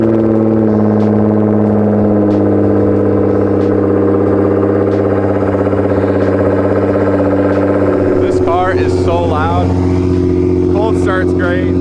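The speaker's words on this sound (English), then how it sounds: "I'm coming outside because we got our R35 to start and get warmed up." A Nissan GT-R R35 engine idles steadily while warming up, a strong low drone running throughout, with a person talking over it near the end.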